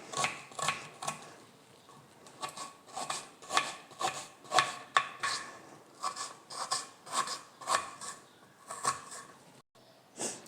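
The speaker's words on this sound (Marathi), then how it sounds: "आता ते आपण आकार कापणार आहे कांद्याचा" Knife chopping a large peeled onion on a board in a home kitchen, a steady run of crisp, close cutting strokes in quick rhythmic bursts with brief pauses between them.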